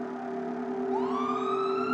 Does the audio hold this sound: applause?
no